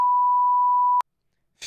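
A censor bleep sounds as a single pure, steady electronic tone held for about a second, cutting off abruptly into silence before a brief noisy burst at the very end.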